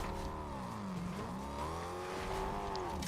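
A car engine revs and shifts pitch as it drives in the video game Fortnite, a steady, close engine drone with rising and falling tones throughout and no talk over it.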